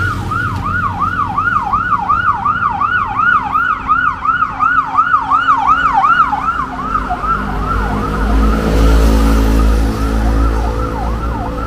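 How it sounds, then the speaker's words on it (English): An ambulance siren wails in a steady up-and-down pattern, loud and close, then fades as it passes along a ring road in Lamai, Koh Samui, while traffic rumbles underneath. "Seem to be a lot of ambulances coming through here"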